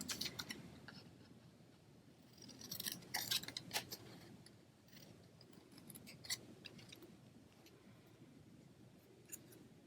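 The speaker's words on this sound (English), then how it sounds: "I'm going to come in with my paper snips, and I'm just going to cut off Boo." Paper snips cut through cardstock in a crafting session, giving a series of crisp snipping clicks and rustles, some louder bursts midway, close up with no talking.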